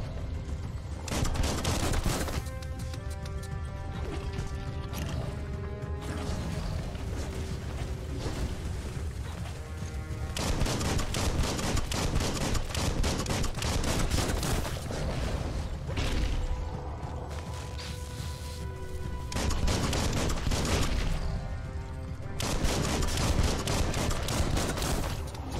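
Dense bursts of gunfire from the video game Biomutant come in repeated volleys with short gaps, loud and close, mixed with mechanical clanks and whooshes over a constant game soundtrack.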